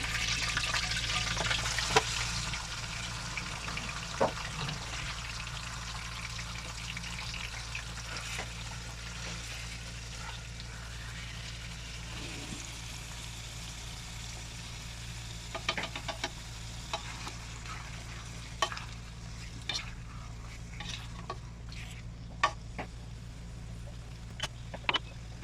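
Chicken pieces drop into hot oil for a Pakistani chicken pulao, giving a steady sizzle with a low hum beneath and scattered crackles and pops that grow more frequent toward the end.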